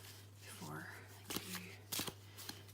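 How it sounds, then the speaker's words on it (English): A deck of cards gets a small, brief shuffle by hand, two or three short papery riffling bursts up close over a low hum, while a voice talks softly alongside. "So, a little tiny shuffle"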